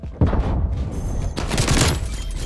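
Shotgun fire in Call of Duty: Black Ops Cold War multiplayer: a sudden loud blast followed by dense, continuous gunfire and booming impacts that stay loud for the whole stretch.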